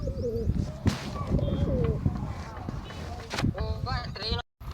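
Pet pigeons coo in low, throaty bursts at close range, mixed with a few chirps, while people talk over and between the calls.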